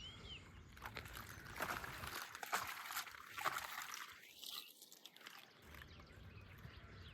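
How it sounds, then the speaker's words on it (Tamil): A dry, rattling shuffle of dragon fruit cactus thorns scraping against each other as the plant is shaken, coming in irregular bursts with a trickling, pouring quality. "இதில் இருக்கிற முள்ளெல்லாம் ஒன்றோட ஒன்று உரசும் போது தான் அந்த சவுண்டு வருது"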